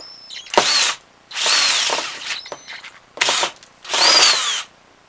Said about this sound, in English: Don't ever hold on to the piece particularly tightly when you're drilling.